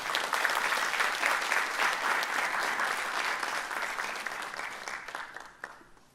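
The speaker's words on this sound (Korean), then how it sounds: "우리 나오실 때 박수로 환영해 주십시오." A church congregation at a Wednesday worship service applauds in welcome as the pastor comes forward, a dense, full round of clapping that swells and then gradually tapers off.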